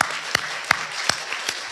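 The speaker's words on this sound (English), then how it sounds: "let's give her a round of applause" A church congregation claps in slow, evenly spaced unison beats, a few sharp hand claps standing out over a low wash of scattered applause.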